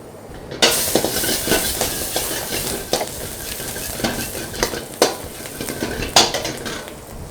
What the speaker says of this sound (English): pan is hot, oil is hot. Garlic, ginger, chili.